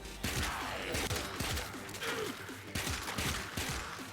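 Rapid weapon fire from a video game, repeated sharp bursts in quick succession with short pauses between volleys, fairly loud and close, with no talk over it.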